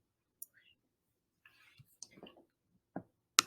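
A computer mouse clicking on a graph, with a few sharp, isolated clicks spread out in near silence and soft, faint murmuring in between.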